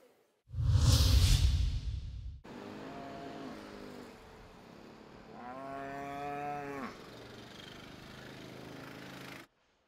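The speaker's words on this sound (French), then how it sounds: "À Rotterdam, 30 vaches occupent cette ferme sur l'eau qui produit 600 litres de lait par jour" Cows on a floating dairy farm in Rotterdam port give a long, drawn-out moo, fairly close, after a loud rushing whoosh of wind or passing traffic, with a steady background rumble throughout.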